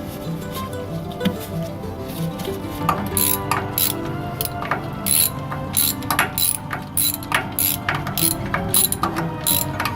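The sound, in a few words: ratchet tightening bolts on 4Runner rear differential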